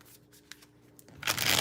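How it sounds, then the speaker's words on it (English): Tarot cards being shuffled at home, a soft papery riffle that swells and thickens toward the end, building from sparse faint flicks to a dense close rush. "So I'm going to shuffle one more time."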